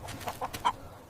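A hen in a folk tale about golden eggs gives several short, soft clucks in quick succession, fairly faint over a quiet background, with no talking.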